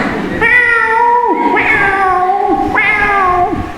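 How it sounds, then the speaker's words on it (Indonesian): A cat meows loudly and close by, three long drawn-out meows in a row, each sliding downward in pitch. "Di belakang ada anak kucing lewat"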